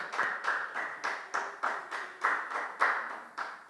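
A church congregation applauds Sunday school students during a Sunday worship service: about ten distinct, evenly paced claps, fairly close and clear, with no talk over them.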